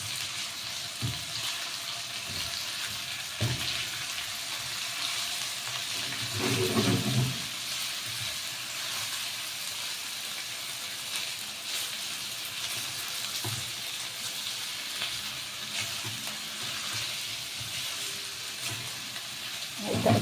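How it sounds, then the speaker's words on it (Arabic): Garlic and meat for Dawood Basha kofta sauté in a pan with a steady, moderate sizzle, broken by occasional stirring clatter and scrapes. "هيتشوح معانا برضو واحنا بنشوح اللحمه"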